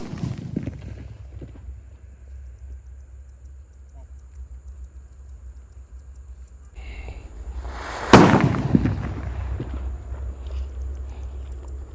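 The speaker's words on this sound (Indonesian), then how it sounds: "Sudah menyala mercon buntelan kertas yang kelima teman-teman." A large paper-wrapped firecracker goes off with a single sharp, loud bang after a stretch of low background rumble, followed by a noisier, sustained wash of sound.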